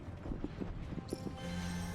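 Horse hooves clop in a steady, close rhythm in The DioField Chronicle video game, a series of soft thuds under a low game soundscape that turns to a sustained tone near the end.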